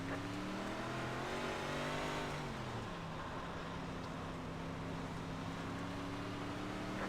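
A field of race cars in a racing video game accelerates at the green flag start, engines rising together in a dense, continuous roar of pitch-climbing revs that holds loud and steady.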